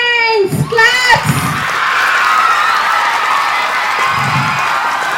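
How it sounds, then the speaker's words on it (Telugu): A crowd of schoolchildren and guests at an award function applauds the teachers, a sustained wash of clapping and cheering that follows a brief voice at the start and carries on evenly to the end. "సో మీ టీచర్స్ అందరి కోసం బిగ్ హ్యాండ్స్ క్లాప్స్"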